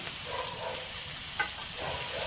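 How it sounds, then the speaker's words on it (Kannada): Chopped large onions and chillies fry together in oil in a pan for mushroom gravy, giving a steady close sizzle with one brief sharp clink partway through. "ಈಗ ಅದನ್ನು ಸೇರಿಸ್ಕೊಂಡು ಚೆನ್ನಾಗಿ ಫ್ರೈ ಮಾಡ್ಕೊಳ್ಳೋಣ ನಾವು"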